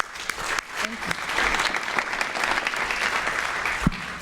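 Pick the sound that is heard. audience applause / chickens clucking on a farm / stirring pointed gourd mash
audience applause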